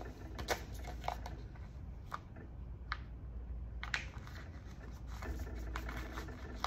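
A hand drill bores holes through a stack of paper for bookbinding, giving quiet, scratchy crunching and clicking bursts in irregular clusters, close and soft, with no talking.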